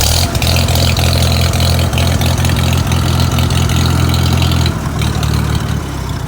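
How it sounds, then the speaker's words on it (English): Farmall H tractor engine idling low and steady after a new ignition switch and spark plugs, a loud, even rumbling throb close by that holds for the whole stretch with no talk. "She idles really nice, a nice low idle."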